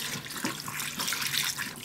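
Water runs steadily from a tap, splashing and hissing as chicken feet are rinsed beneath it, close and continuous without any talking.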